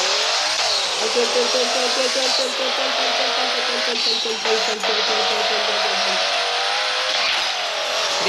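Race cars in a Roblox racing game roar and rev continuously at close range, with shifting engine pitch throughout and excited talking over the top.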